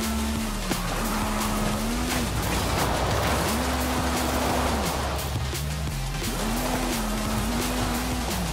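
An Aston Martin drives in Forza Horizon 5. Its engine note climbs and falls in repeated revving sweeps over a steady loud rush of road and tire noise, with no voice over it.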